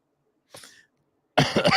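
A short, breathy cough, then a pause and a louder, harsher burst of coughing close to the microphone.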